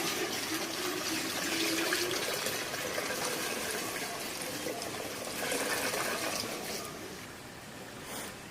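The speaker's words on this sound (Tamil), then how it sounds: "அதில் தண்ணி ஊற்றிக்கலாம்." Water pours steadily onto groundnut cake in a container, a continuous splashing rush that holds for several seconds and then eases off near the end, recorded close up with no speech.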